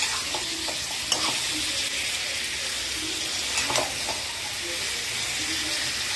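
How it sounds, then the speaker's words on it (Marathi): Mutton sizzles steadily in hot oil tempering with onion and tomato, a continuous bright frying hiss with occasional stirring clatters from a spoon against the pan, close up and without talk. "फोडणीला घातलं मी मटण"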